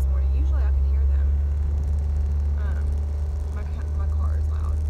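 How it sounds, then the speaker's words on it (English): A steady, loud low engine rumble fills the interior of a moving car, with a voice talking faintly over the drone. "My car is loud."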